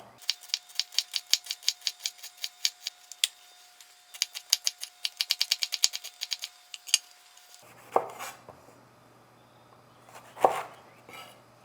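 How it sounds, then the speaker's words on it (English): A knife dices vegetables for pico de gallo on a cutting board, rapid rhythmic chopping in two bursts of quick taps, followed by a couple of heavier scraping strokes, close and clear without talk. "I'm gonna try and dice these pretty thin, small as you can get them."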